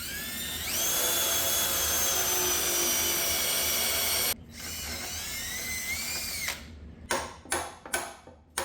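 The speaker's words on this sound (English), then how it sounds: "we need to go ahead and drill 5/8 holes in all 4 corners of this frame" A power drill bores 5/8-inch holes into the corners of a wooden frame for a turkey poult enclosure. A loud, steady whine runs for several seconds and shifts pitch as the bit bites. It then stops, and a few short trigger bursts follow.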